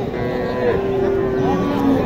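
A calf at a cattle market moos in a drawn-out, tonal call over steady outdoor background noise, fairly close and moderately loud.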